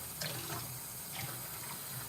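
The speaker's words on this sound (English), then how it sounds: "Add in the water" Tap water runs steadily into a pot of macaroni, a soft continuous splashing stream at moderate distance with no speech.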